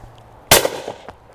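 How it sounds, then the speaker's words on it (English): A 2025 Blaser FBX shotgun fired at clay targets outdoors, one loud, sharp blast followed by a short ringing tail and a faint echo. "I could literally stand here and shoot this gun all day long"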